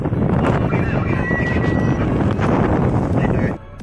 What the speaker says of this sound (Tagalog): Hirap lang mag-video dito dahil sobrang lakas ng hangin.